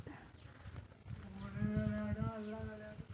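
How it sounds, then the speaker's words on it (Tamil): A lamb bleats a long, wavering call close by, rising out of quiet rustling background noise partway through. "ஆட்டுக்குட்டி"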